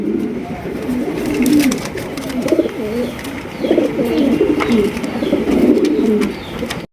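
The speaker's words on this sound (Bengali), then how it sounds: "এখানে রয়েছে একজোড়া গিয়া চুল্লি কবুতর" A pair of large Giya Chulli pigeons coos close by in soft, rolling, repeated phrases that continue steadily throughout.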